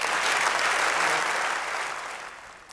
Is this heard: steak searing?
no